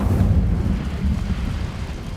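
Incendio fire spell cast in Hogwarts Legacy, a steady, loud low rumbling whoosh of flame that holds for a couple of seconds without a sharp attack.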